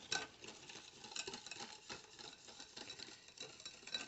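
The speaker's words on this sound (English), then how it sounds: "Now we're gonna add in 1/2 a cup of packed brown sugar and whisk that in as well." Brown sugar being whisked into a pumpkin pie filling, a steady busy patter of whisk strokes against the bowl, close and continuous with no talking.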